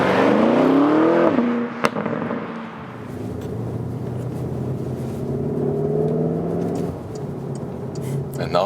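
A Porsche Cayenne GTS Coupé engine revs and drones up close, with a strong rising pitch at first, then a steady lower hum of cruising and road rumble that swells slightly before easing, under a faint click and light noise.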